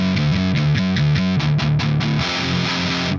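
Distorted electric guitar played through an MXR PH2-style phaser pedal, a rhythmic riff of chugging repeated chords with a sweeping swirl, loud and up close with no talking.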